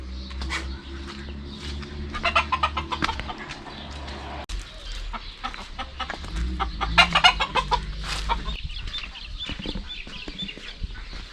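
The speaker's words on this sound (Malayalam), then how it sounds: "കോഴിയെയും വളർത്തുന്നുണ്ട് ഇവിടെ." Chickens clucking and calling in a farm enclosure at a heritage farm stay in Fujairah, several birds close by with irregular bursts of clucks over a steady low background hum.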